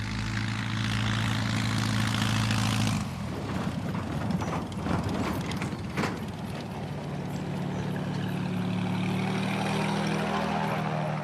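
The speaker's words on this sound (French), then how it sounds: "Le premier atterrissage a lieu sur l'île de Vinyl Haven, où la piste est une simple allée de gravier aménagée au beau milieu de la forêt." A small propeller plane lands on a gravel airstrip cut through the forest on Vinalhaven island, its steady engine drone loud and close before giving way to rough rolling and rattling noise, then an idling engine hum.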